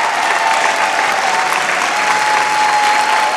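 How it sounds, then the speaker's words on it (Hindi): An audience at a Bhojpuri dance competition stage show applauds loudly, with dense, steady clapping filling the whole stretch and no talk over it. "जोरदार ताली से स्वागत करें"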